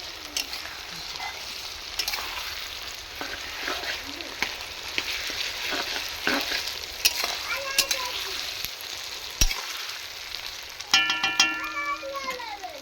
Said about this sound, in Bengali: এটা ভালো করে কষানো হোক